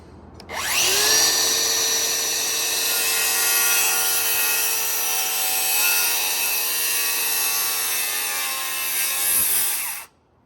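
A loud power saw cuts wood trim on a log cabin porch during a winter build, its blade spinning up and biting steadily through the piece for about nine seconds before spinning down, close and continuous.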